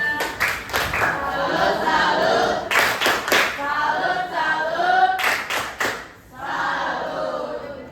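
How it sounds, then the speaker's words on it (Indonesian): An audience performs a rhythmic salute clap in an Indonesian classroom session. Crisp, loud bursts of synchronized hand claps arrive in a patterned sequence, with voices calling out between and over the clap groups. "tepuk salut untuk Pak Gaya dan Lilia."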